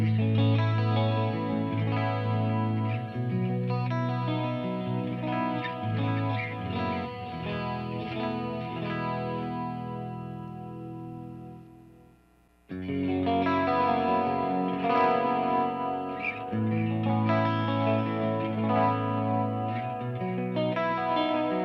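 An electric guitar played through the clean channel of an EVH Iconic amp with chorus and delay effects gives lush, shimmering chords with echoing repeats, briefly cutting out midway before resuming loud and steady.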